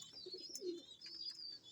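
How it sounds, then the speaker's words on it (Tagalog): A returned pet bird, apparently a pigeon or dove, gives soft low cooing notes over a faint high chirping and steady background hiss, quiet and somewhat distant, with nobody talking. "Ang ibon natin na ninakaw sa atin,"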